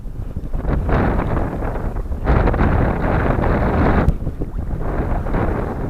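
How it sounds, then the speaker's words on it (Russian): Strong gusting wind buffets the microphone during a July lure fishing trip for pike on open water, a loud, steady broadband roar with surges, no voices. "Что-то ветер не на шутку."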